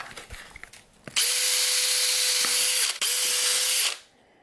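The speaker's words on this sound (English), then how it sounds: "After you drill the holes" A power drill whirs loudly in two sustained bursts with a brief pause between, drilling holes in an aluminum RC car chassis, the motor's steady whine ending abruptly.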